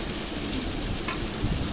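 Sliced chicken marinated with ginger, garlic, chili powder and garam masala fries on low heat for burgers, a steady close crackling sizzle with faint pops.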